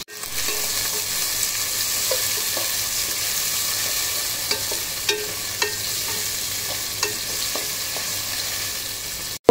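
Chopped onions and assorted spices frying in hot oil, a dense, continuous sizzle that stays level throughout, with a few faint clicks of a utensil and no speech.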